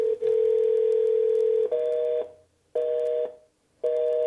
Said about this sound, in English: Bad dial tone means that did not get into the queue.